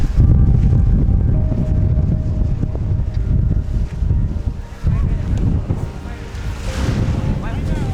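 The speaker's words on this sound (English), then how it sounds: "Oh my god, the wind." Strong wind buffets the microphone at an Antarctic landing site, a loud continuous roar with gusts and rumbling low noise, sea and surf sounds mixed underneath, no clear speech.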